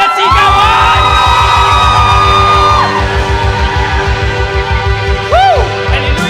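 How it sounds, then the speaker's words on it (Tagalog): A church congregation at a Sunday worship service shouting and cheering loudly, with overlapping whoops and yells over a rhythmic, pulsing backing beat that runs all the way through. "Yung kanilang sigawan!"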